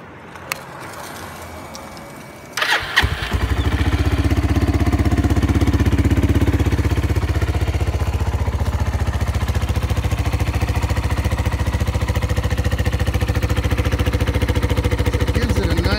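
A Suzuki TU250X motorcycle fitted with an aftermarket pipe cranks over and catches after a few seconds, then settles into a steady, loud, close idle that runs on alone.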